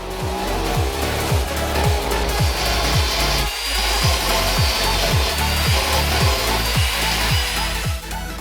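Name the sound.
air saw cutting off old breather tubes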